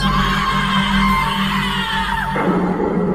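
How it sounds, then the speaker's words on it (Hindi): A terrifying scream in a horror story, a loud sustained bellowing cry that holds steady for over two seconds over a dense rumbling background, then cuts off abruptly. "तभी एक बार फिर उसी खिड़की से एक भयानक चीख उन तीनों ने साफ साफ सुनी।"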